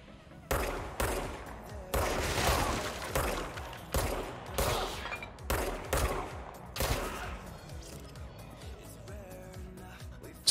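Gunfire in the video game Control rings out in several loud, rapid bursts of sharp shots with short pauses between them, then fades to quieter game sounds.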